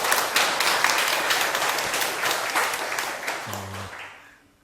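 An audience at a question-and-answer talk claps steadily for a few seconds, the applause thinning and fading out toward the end, with a brief low tone near the close.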